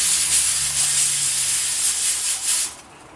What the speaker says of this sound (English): Let's stir it and taste it